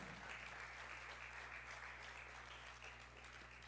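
A church congregation applauds during a worship service, producing a steady, dense wash of clapping that holds at an even level throughout, with a low hum underneath.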